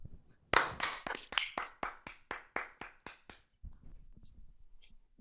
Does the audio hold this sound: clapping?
yes